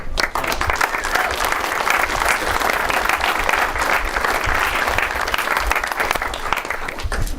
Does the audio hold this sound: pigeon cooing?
no